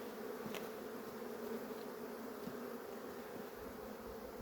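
Weak honeybees, damaged by varroa, buzzing at an opened hive during combining, a faint continuous steady drone with no voices.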